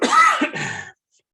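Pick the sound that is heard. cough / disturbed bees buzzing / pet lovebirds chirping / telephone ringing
cough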